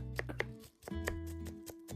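An onion is chopped with a knife in Café Stella: a few crisp, slightly uneven knife taps over soft, continuous background music.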